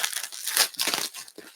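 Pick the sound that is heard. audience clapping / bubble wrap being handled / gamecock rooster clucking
bubble wrap being handled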